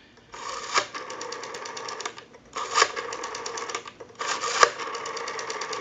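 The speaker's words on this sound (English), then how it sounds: "I want to go ahead and dial a few numbers here." The rotary dial of a Western Electric 302 desk telephone, sluggish and in need of cleaning and oiling, is dialed three times, each return a whirring burst of rapid clicks, close and fairly quiet.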